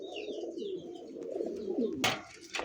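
Yellow king pigeons coo at a pigeon market, a close, low, rolling murmur running throughout with a few thin chirps from other birds and two short sharp noises near the end.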